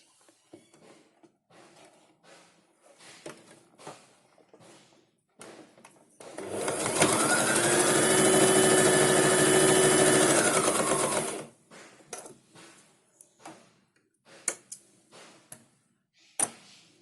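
A sewing machine stitches churidar top pieces together in one steady, fast run of about five seconds, loud and close, framed by quiet handling clicks and fabric shuffling before and after.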